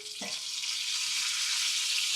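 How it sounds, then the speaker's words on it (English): Bacon sizzling steadily in a pan for a shrimp and asparagus scramble, a loud, continuous hiss and crackle close up, with a small clink near the start. "The bacon is in here, cooking away."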